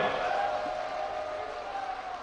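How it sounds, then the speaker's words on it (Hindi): An audience at a roads and ropeway project event in Uttarakhand applauds and cheers for the Prime Minister, a steady, fairly loud wash of clapping and crowd noise with no distinct voices. "आइए पुनः हाथ ऊपर करके तालियों के जय घोष से धन्यवाद करें हमारे यशस्वी प्रधानमंत्री महोदय का"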